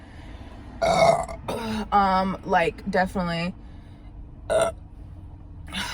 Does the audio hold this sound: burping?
yes